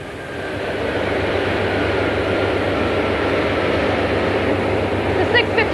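A passenger train from Newcastle pulls into King's Cross station in 1989 with a steady, loud low rumble filling the platform, and faint metallic squeals rise near the end.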